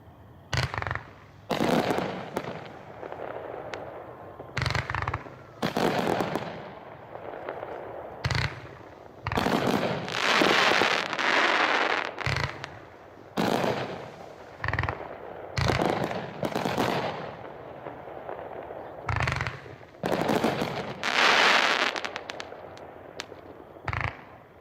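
A Crowning of Champions 36-shot, 500-gram firework cake fires off loud, repeated thumping launches and crackling bursts, some single and some in rapid clusters, with longer sizzling crackle stretches between, recorded outdoors at a demo without talk.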